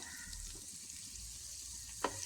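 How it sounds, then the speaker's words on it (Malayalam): Pieces of fish roe fry in a pan with a faint, steady sizzling hiss, broken by one short scrape or tap near the end as they are stirred. "രണ്ട് സൈഡും നന്നായിട്ട് മൂത്ത് വെന്ത് വരട്ടെ അതുവരെ ഒന്ന് നമുക്കിത് അങ്ങോട്ടും ഇങ്ങോട്ടുമൊക്കെ ഒന്ന് ഇളക്കി കൊടുക്കാം"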